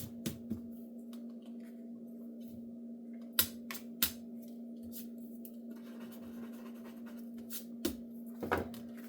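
Scissors trim the edge of card paper for an embossed balloon birthday card in a quiet room: a few sparse, sharp snips and clicks stand out over a low, steady hum.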